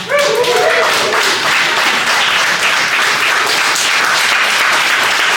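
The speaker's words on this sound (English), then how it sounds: "I just want you guys to give yourselves a round of applause for coming out." Comedy show audience applauding, loud dense clapping that fills the room continuously, with some cheering voices at the start.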